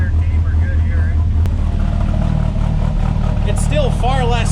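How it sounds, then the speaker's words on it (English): The Rat10 car engine idles steadily after a cold start with a loud, constant low rumble, close up. People talk over the engine noise. "She's idling smooth though."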